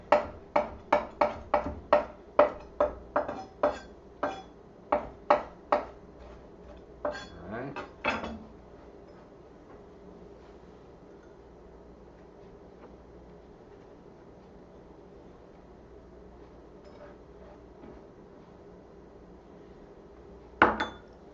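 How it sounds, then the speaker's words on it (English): A knife minces oregano on a cutting board in a run of quick, evenly spaced chops, loud and close, then a few scraping strokes, a long quiet stretch and one last knock. "I'm just going to kind of mince this up"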